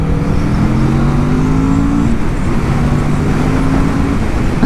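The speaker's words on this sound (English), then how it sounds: "another second gear roll on once I get around over here" A 2023 Kawasaki Vulcan S cruiser motorcycle accelerates in second gear, its engine note climbing steadily in a continuous loud drone close to the rider, with road and wind noise underneath and no talking.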